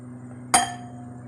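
A serving bowl, glass or ceramic, is set down once with a sharp clink and a short ringing tail in a quiet kitchen while a custard fruit trifle is made, alone with no talk.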